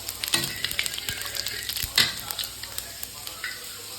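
Cumin seeds and bay leaves crackle in hot oil in a large wok, a quiet close sizzle broken by frequent small pops and spatters.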